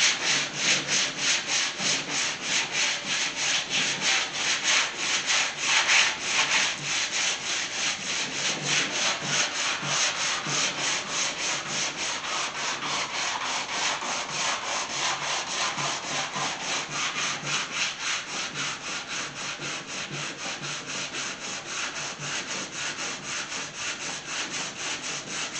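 Continuous scratchy rubbing of sandpaper by hand on a painted pedal car, steady brisk strokes, close up and fairly loud throughout.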